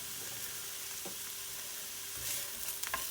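Onions softening in a pan for Mexican rice give a steady, gentle sizzle and fry throughout, with a few soft stirring knocks and a faint hum beneath.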